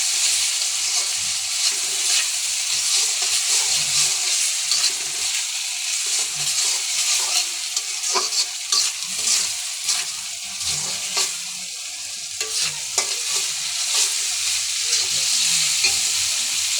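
Spices and meat for biryani sauté in a pan with a loud, steady hiss, broken by repeated scraping and stirring strokes of a spoon against the pan.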